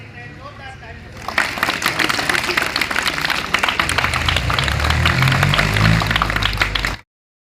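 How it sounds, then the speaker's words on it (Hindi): A crowd at a school Constitution Day event breaks into loud, dense applause that swells after a second and sustains for several seconds before cutting off abruptly. "जोरदार तालियां"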